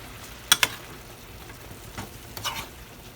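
Tomatoes, green beans and sweet peppers being stirred in a pan, with a faint sizzle beneath a couple of sharp utensil clicks and soft scraping pushes.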